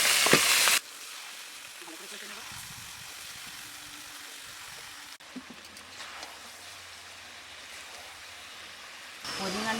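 Chicken pieces drop into hot oil with onion, ginger and garlic already fried in a pan, giving a soft crackling sizzle with some stirring sounds between louder bursts at the start and end.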